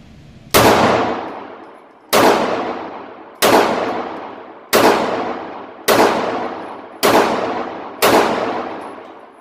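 A Ruger LC9 pistol fires seven loud, evenly spaced shots at a shooting range, about one every second and a half. Each crack rings on with a long, metallic decay, and no one talks.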